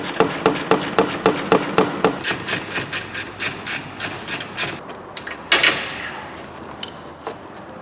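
A ratchet undoes the steering pump bolts on a Ford Galaxy, a fast run of close metallic clicks that slows, then breaks into a few scattered knocks and clicks at the end.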